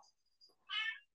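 A cat lets out a single short meow, close and fairly quiet, in an otherwise hushed indoor room.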